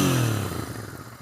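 A Royal Enfield Interceptor 650 BS6 motorcycle, a 650cc twin, gives a brief rumbling exhaust rev that quickly settles back down, heard close and alone.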